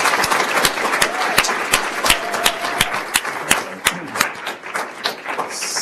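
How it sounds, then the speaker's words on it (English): Audience in a meeting room claps steadily throughout, a dense patter of many hands with sharper individual claps standing out, loud and sustained with no voices. "First, let's give a round of applause to this group."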